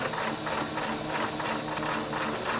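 A sewing machine stitches a liner into a dress, giving a steady, fast mechanical whir with a regular rhythmic chatter of the needle, close up and continuous with no talking.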